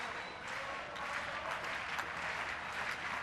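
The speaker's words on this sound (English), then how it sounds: "crowd just springing to life" Crowd at an Argentina vs England women's field hockey World League third-place play-off in Argentina, a broad steady roar of cheering and applause filling the whole stretch, dense and sustained without a break.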